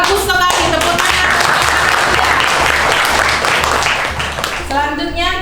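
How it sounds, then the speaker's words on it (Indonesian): A classroom of students claps loudly for a classmate, a close, steady burst of applause, with voices heard briefly before it starts and again as it dies down. "Bagus sekali, tepuk tangan."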